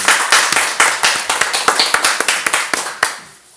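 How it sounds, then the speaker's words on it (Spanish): A church congregation claps together in fast, rhythmic bursts, close and loud, with individual hand claps distinct. The clapping slows and fades at the end. "Si lo crees, dale un aplauso fuerte a Jesús."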